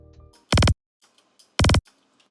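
Electronic kick drum rolls with the low end cut, heard as two short, loud bursts about a second apart, with faint trailing texture in between.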